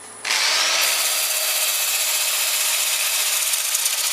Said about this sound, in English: I try not to have the lathe going too fast either